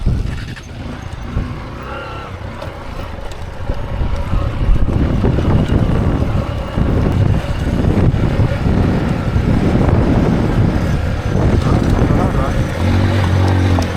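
Strong wind on a mountain in Vietnam buffeting the microphone with heavy low rumbling gusts that swell and persist, with no talking over it.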